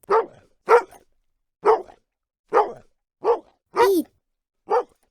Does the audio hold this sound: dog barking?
yes